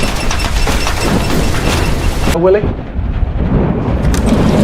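A violent hurricane storm with thunder, Hurricane Andrew, roars loudly as dense, continuous noise with booming rumble. Voices and dramatic film sound are mixed in.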